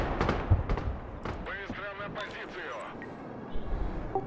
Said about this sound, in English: Oh yeah, I see the artillery now, I'm gonna have to try fire at it